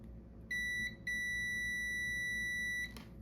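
A multimeter continuity tester gives a high electronic beep briefly, breaks off, then returns as a steady tone for nearly two seconds over a low background hum.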